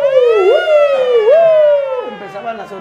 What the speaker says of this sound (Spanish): Empezaban a sonar las patrullas